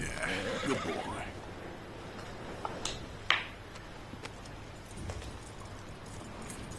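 A horse in the video game Red Dead Redemption 2 gives a quiet whinny near the start, followed by a few faint clicks and hoof-like taps over a low, steady background.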